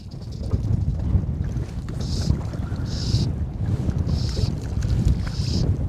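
Wind gusts buffet the microphone on a small fishing boat on open water during float-and-jig fishing, giving a loud, continuous low rumble, with faint high whines coming and going.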